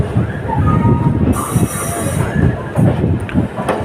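The Gorakhpur–Hatia Maurya Express pulls out of a station platform with loud wheel rumble, clanking carriages and squealing wheels, heard close up, with a brief high hiss partway through.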